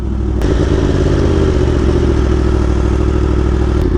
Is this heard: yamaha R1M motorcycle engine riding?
yes